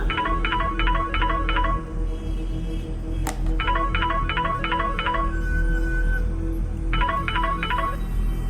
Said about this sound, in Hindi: तभी अचानक ही नक्श का मोबाइल बज उठा।